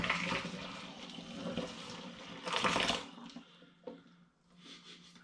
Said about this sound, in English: in goes my American hard gums tea through the funnel into the demijohn